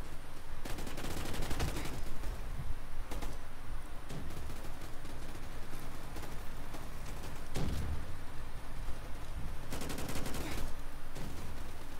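Gunfire from a gun in the horror game Evil Nun The Broken Mask, rapid close bursts of shots crackling in several clusters across the stretch, over constant game noise with a voice talking at times.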